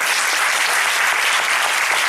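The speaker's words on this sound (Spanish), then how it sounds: "Le recibimos con un fuerte aplauso," Audience applause welcoming a speaker to a talk on shamanism, a dense, steady wash of many hands clapping at once that holds evenly for the whole stretch without voices.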